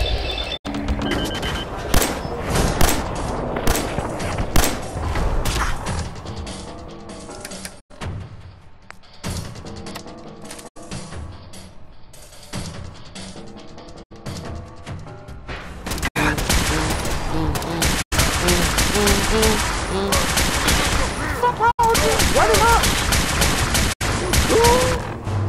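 Rapid gunfire while shooting super mutants in the Fallout 4 video game, with loud bursts and single sharp shots spread across the stretch, a quieter gap in the middle, and game effects between the shots.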